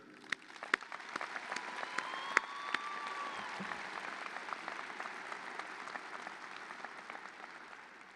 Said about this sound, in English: Let us please give a round of applause to thank everyone who has been part of this journey.